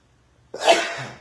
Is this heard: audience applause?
no